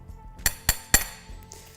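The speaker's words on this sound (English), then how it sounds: "hammer it down into the ground" A playhouse ground anchor is hammered into the ground at close range: three sharp, ringing metallic strikes in quick succession, then a faint lighter tap, with no talking.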